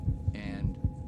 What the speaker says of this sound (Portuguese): estimulando a fazer o som do meu coração batendo